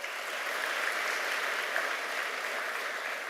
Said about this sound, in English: Loud applaud, loud applaud